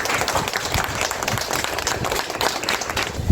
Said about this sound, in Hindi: हम लोग के डॉक्टर इनके लिए जोरदार तालियां हों